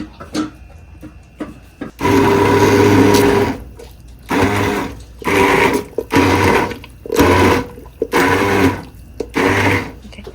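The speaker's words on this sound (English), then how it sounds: "I'm getting ready to use the immersion blender" An immersion blender whirs through soup made with heavy cream in repeated loud bursts of a few seconds each, separated by short pauses, close and alone.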